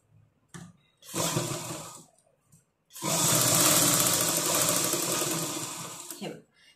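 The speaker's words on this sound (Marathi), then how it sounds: "आता हे जे आहे ही पट्टी अशी फोल्ड करायची आहे आणि याच्यावर दाबटीप मारायची" A sewing machine topstitches a folded fabric strip for a blouse, with a short run of close, whirring stitching, a pause, then a longer steady run before it stops.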